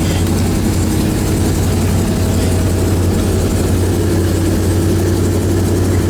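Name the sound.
big block V8 car engine idling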